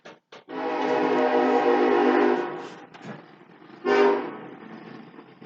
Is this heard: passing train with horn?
yes